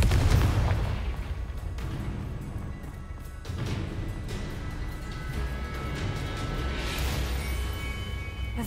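Confringo blasting curse explosions in the Hogwarts Legacy video game, a run of loud crashing booms and bursts close together over a dense, rumbling game backdrop with several sharp impacts.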